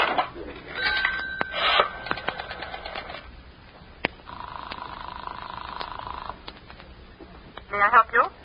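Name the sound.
telephone sound effect in old-time radio show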